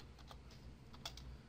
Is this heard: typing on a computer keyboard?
yes